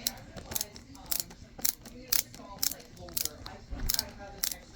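A ratchet wrench clicking as it loosens the bolts of a Bates-Arena-Wintec saddle, close up, in a steady series of short sharp clicking strokes repeating about every half second.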